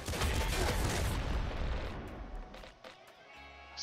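Grenade rifle fire in the top-down shooter Nuclear Throne makes a dense, loud burst of blasts and booms that thins out into scattered softer hits and ringing tails.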